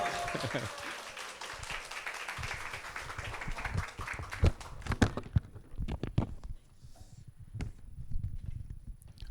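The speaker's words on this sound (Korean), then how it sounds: "박수로" Audience at a church small-group leaders' seminar applauds a professor's introduction, full clapping for about five seconds that thins into a few scattered claps, with shuffling and light taps in a quiet room.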